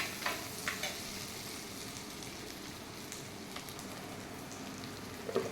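Four dried red chillies sautéing in sesame oil in a pan, a steady, soft, continuous sizzle and crackle with a few faint clicks, heard alone with no talking.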